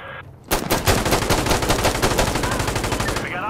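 Rapid machine gun fire in the video game Insurgency Sandstorm, a loud sustained burst of evenly spaced shots starting abruptly after a brief quiet moment and continuing without pause.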